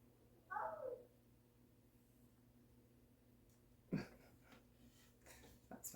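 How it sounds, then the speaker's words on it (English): A house cat gives a single clear meow near the start in a quiet indoor room, followed by a few soft bumps and rustles. "That's my cat."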